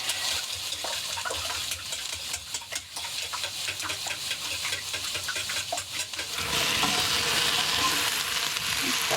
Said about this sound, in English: And give that another good mix.